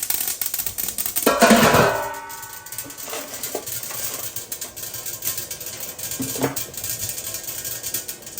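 A lid clanks onto a cooking pot of apple chutney with mustard seeds in a short metallic rattle, followed by a few lighter clinks over a faint cooking hiss, with a voice briefly in the background.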